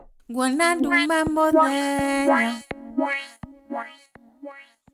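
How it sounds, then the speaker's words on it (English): A bright synthesized tone followed by rising swept echoes that repeat and gradually fade away, a reversed delay effect trailing off over several seconds. "How about one more? Reverse sweep."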